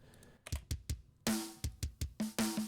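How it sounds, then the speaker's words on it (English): Kick and snare drums run through parallel distortion: a short sequence of punchy, gritty hits with a saturated snare crack and booming kicks. It plays alone and gets louder partway through as the distorted layer comes in. "Another thing is kick and snare parallel distortion,"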